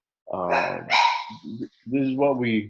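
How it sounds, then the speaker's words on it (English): Dogs barking indoors during a college physics lecture, a few loud yappy barks mixed closely with someone talking. "excuse the dogs, ignore the dogs"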